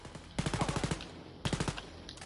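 A laser turret in the video game Wolfenstein: Youngblood fires two rapid bursts of sharp, evenly spaced shots, the first longer than the second, fairly close.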